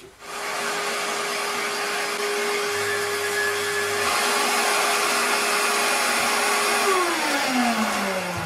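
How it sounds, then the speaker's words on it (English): A 5-inch orbital sander with 100-grit paper works across a wooden surface, giving a loud, steady, continuous whir with shifting tones and no pauses. "So I've switched to this 5-inch orbital, stepped it up to 100."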